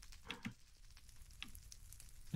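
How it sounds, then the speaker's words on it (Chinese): Light rain falling in the video game Minecraft: a faint, steady crackling hiss with a few soft clicks and ticks scattered through it. "小雨又出来了，"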